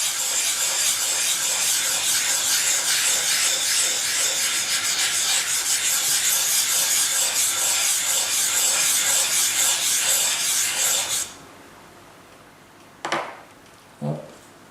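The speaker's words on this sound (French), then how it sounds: "je vais créer ma petite pâte abrasive avec la pierre Magura" A Magura stone rubs back and forth on a whetstone to work up an abrasive paste, giving a close, steady, rhythmic gritty scraping that stops, followed by two brief knocks.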